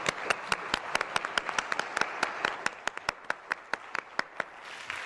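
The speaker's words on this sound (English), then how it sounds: "So if everybody would like to now, give them a round of applause." Scattered claps from a small audience at a US Representatives District 1 congressional forum, each sharp clap distinct and spaced, mid-distance, thinning slightly toward the end with no voices over it.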